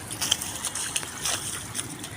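Floodwater runs over a flooded main road jammed with traffic, a steady, fairly close rushing and sloshing with small splashy surges and no clear speech.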